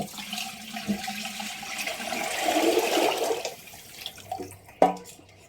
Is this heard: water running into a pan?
yes